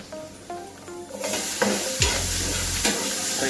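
Tomato frying in a little oil in a pan for a diet fat-loss meal, a steady close sizzle with a few sharp stirring scrapes and clatters of the spoon against the pan, no talking.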